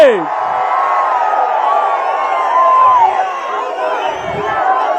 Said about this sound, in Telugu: స్వాగతం చెప్పండి, గట్టిగా చప్పట్లు కొట్టి.